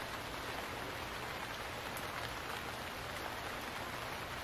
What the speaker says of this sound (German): Während es regnet